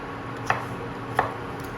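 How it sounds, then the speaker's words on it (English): Two brief knife taps on a board, spaced well apart, as a vegetable is cut finely for dim sum, over a steady room hiss with no talking. "once this is sliced, you have to just cut it finely"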